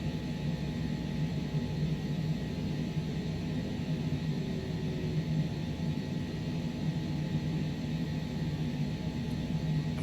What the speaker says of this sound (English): and our engines are running